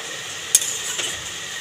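A utensil stirs soybean curry in a pan, with one sharp scrape and clink followed by a softer second scrape over a quiet, faint sizzle.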